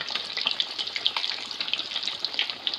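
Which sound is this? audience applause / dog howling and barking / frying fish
frying fish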